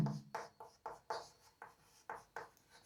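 Marker or chalk writing on a board for a physics exam-pattern lesson, a run of short scratchy strokes in a steady rhythm, close and clear with no talking.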